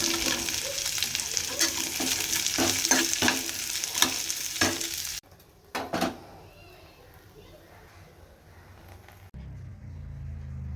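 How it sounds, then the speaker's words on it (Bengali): Potatoes frying in a pan with onion and dried chilli give a steady sizzle broken by quick spatula clicks for about five seconds. The sizzle then drops away to a much quieter kitchen background. "আর এবার আমি আমার জন্য পেঁয়াজ আর শুকনো লঙ্কা দিয়ে আলু ভাজাটা"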